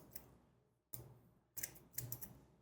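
Thinning scissors cutting hair during a fade haircut, three crisp close snips with quiet pauses between, no talking.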